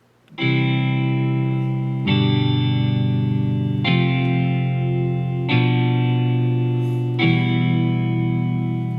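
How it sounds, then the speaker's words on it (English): Electric guitar in a roots rock style, played through the iPad GarageBand app, strums five sustained distorted chords at a steady, even pace, each ringing out loud and clear with no voices. "We'll go into a roots rock guitar. And I'll show you guys the chord functionality first"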